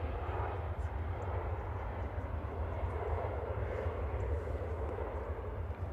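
An aircraft at Manchester Airport rumbles steadily with a low engine drone, moderately distant and continuous, with no distinct voices over it.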